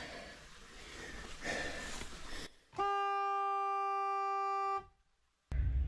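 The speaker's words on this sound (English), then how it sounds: "We're doing my 3 blasts on the horn and then call him on the radio." At a gold mine before blasting, a vehicle horn sounds one long, loud, steady blast of about two seconds, following outdoor noise and a brief rustle, then cuts off abruptly into silence.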